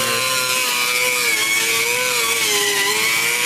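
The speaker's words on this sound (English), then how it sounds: "measure it out and grind away at it until it's large enough for the booster to go through" Grinding away at a car firewall to enlarge the hole for a brake booster, a loud, continuous, high-pitched whine with a steady tone and no pauses.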